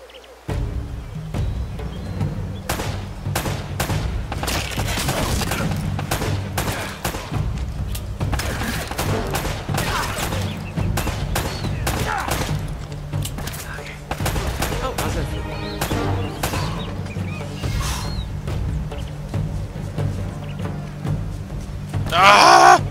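Gunfire in the action-adventure game Uncharted: Drake's Fortune, with rapid, repeated shots crackling over a constant low rumble for a long stretch, now in dense bursts and now in scattered single cracks.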